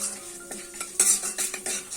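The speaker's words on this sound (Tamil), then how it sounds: "லோ ஃப்ளேம்லேயே வச்சு கடலைப்பருப்பு உளுத்தம்பருப்பெல்லாம் நல்லா கோல்டன் கலர் ஆற வரைக்கும் வதக்கி எடுத்துக்கிறேன்" Chana dal and urad dal sautéed in a pan over a low flame, with a spoon scraping and clinking against the metal through a soft, steady sizzle, close and alone.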